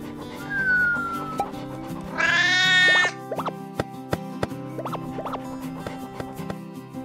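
A cat meows once in a children's English-learning cartoon, a clear drawn-out call over steady background music, along with a few soft plops and clicks.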